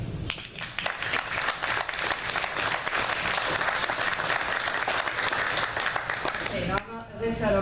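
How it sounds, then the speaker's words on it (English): Audience at a veterans museum event applauding, a sustained wash of clapping with some voices mixed in, ending abruptly as a voice begins speaking. "I want to give you guys a round of applause for all you do"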